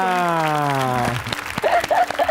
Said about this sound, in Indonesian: Oke, kita kasih tepuk tangannya.